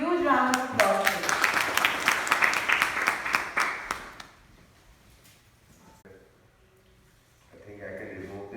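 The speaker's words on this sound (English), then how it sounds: "Let's welcome Sir with huge round of applause, please." An audience at a college orientation day claps for a guest, a dense burst of applause for about four seconds that dies away, followed by quiet and a voice speaking.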